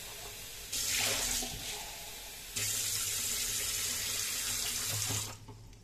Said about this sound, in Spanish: Ya le dejo agua.